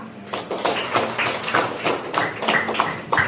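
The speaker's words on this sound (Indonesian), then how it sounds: "Kita beri apresiasi dengan tepuk tangan untuk kelompok A" Students clap together for group A in a classroom, a loose cluster of hand claps repeating steadily through a few seconds at moderate level, with no talking over it.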